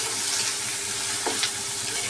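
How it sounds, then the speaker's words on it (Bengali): Cumin seeds and spices sizzle in an oil-filled pan as the masala for an egg curry is fried, a steady close crackling hiss with a few brief stirring scrapes and no talk. "এখানে ডিমের জন্য মশলা কষা দিচ্ছি এখানে জিরে ফোড়ন"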